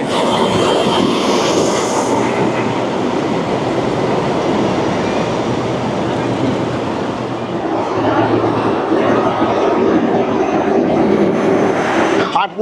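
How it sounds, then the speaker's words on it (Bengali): The 12321 Howrah–CSMT Mumbai Mail passenger train rumbles loudly and steadily as it pulls into the platform, a continuous heavy roar of wheels and engine with faint voices in the background. "আর আমাদের train 12321 Howrah CSMT Mumbai mail just ঢুকছে"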